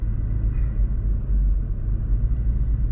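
A truck rolls slowly around a small roundabout at about 10 mph, making a steady low engine rumble and road drone that stays continuous and fairly loud throughout.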